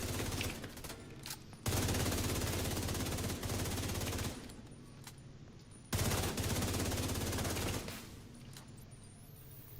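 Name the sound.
gunfire from video game The Division 2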